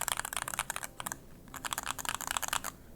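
Rapid typing on an i61 keyboard with Cream Soda switches and O-rings, soft muted keystrokes in quick bursts with a short pause, close and quiet.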